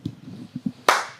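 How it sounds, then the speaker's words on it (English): A single sharp hand clap rings out near and loud after a few soft low thumps and rustles, with a brief decaying tail, used as a sync mark in an indoor recording setting. "Can you give me a clap"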